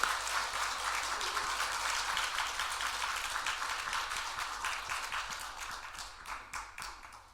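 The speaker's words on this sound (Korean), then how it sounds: "격려의 박수 해드리겠습니다." Church congregation applauding in encouragement during a Sunday service, a steady round of many hands clapping at moderate level, with a low hum beneath, thinning out toward the end.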